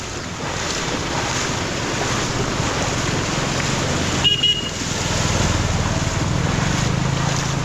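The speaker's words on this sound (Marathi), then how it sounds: "जेव्हा अशा रिक्षा किंवा बाईक येतात तेव्हा कशा मोठ्या मोठ्या लाटा येतात" Rickshaws and bikes driving through knee-deep floodwater on a city road, a loud continuous rush and wash of water and waves with wind buffeting the microphone, and a brief surge partway through.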